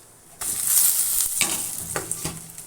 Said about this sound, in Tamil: இப்போ டக்குன்னு இந்த மிளகாத்தூள் போட்டு அடுத்த செகண்டு நான் இஞ்சி போட்டுக்கிறேன்.